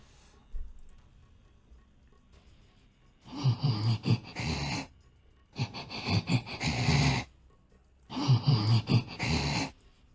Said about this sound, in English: Here we are, Resident Evil 4 Regenerator Breathing.